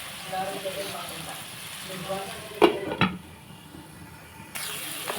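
Onions frying in a pan for a mango fish curry, a steady sizzle with a couple of louder stirring clatters partway through, close by and without talk.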